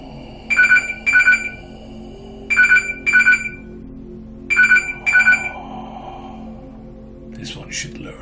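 A mobile phone ringtone cuts in during a channeling session, three paired bursts of bright electronic trilling tones separated by pauses over a low steady hum, with brief breathy sounds afterward.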